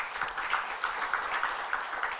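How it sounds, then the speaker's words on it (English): Audience at an African media awards ceremony clapping in a steady, fairly quiet patter, with a regular rhythmic accent standing out about three times per second, heard at a moderate distance. "Can we clap for them?"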